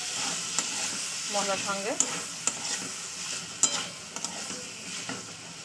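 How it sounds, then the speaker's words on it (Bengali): Tomatoes, green peas and green chillies are stir-fried in a pan with spices, making a low sizzle under sharp, irregular clinks and scrapes of the spatula, while a voice speaks briefly. "তো চলুন দিয়ে দিচ্ছি টমেটো, মটরশুঁটি আর কাঁচা লঙ্কা একসঙ্গে দিয়ে দিলাম, দিয়ে একটু নাড়াচাড়া করে নিতে হবে"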